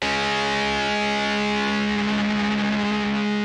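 Distortion guitar voice played as a sustained two-note chord on a Yamaha Genos keyboard, a loud, buzzing, gritty tone held steadily with no talking.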